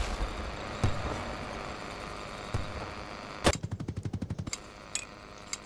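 Gunfire in the shooter game BattleBit Remastered: scattered single shots, then a quick burst of automatic fire in a rapid even rhythm, with a few more isolated shots after, all without talk.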